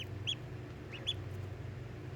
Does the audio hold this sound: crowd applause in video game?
no